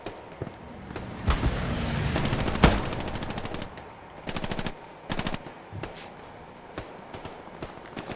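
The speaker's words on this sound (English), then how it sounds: "We're getting shot at." Automatic gunfire bursts in the World War II shooter Hell Let Loose, rapid crackling volleys with a loud nearby shot, then pauses and further clipped bursts at mid distance.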